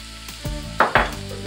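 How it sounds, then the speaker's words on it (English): Vidalia onions hit melted butter in a pan, setting off a steady sizzle with two sharp bursts of louder crackle as they land and are stirred, close and alone without voices. "Now we're going in with the Vidalia onions."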